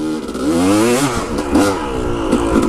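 A motorcycle engine revs hard in third gear, rising and falling in pitch with a strong low-end growl, loud and close with some clatter and no talk.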